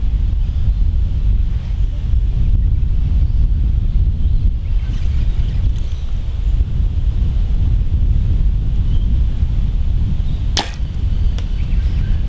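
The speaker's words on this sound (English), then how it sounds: "now the wind's picked up." Strong wind buffets the microphone outdoors at an archery session comparing PSE bows, a steady low rumble throughout with no speech, and one brief sharp swish near the end.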